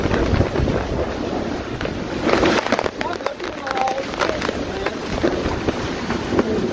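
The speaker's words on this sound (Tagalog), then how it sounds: "Parang ang lakas ng balik ano, yung balik ng hangin." Strong typhoon wind from Typhoon Aghon roars and gusts in a loud, uneven rush that buffets the microphone, with voices talking faintly underneath.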